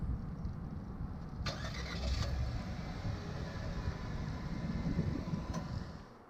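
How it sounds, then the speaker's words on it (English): Remote start of a 2020 Nissan Versa SR: a faint engine crank catches and settles into a low, steady idle, heard from outside the car with no talking. "press and hold the remote start button"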